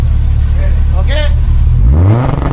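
A Chris Gomes 12:1 3TC wagon's engine revs toward about 4,000 RPM, loud and close, with a rising sweep near the end and people talking over it.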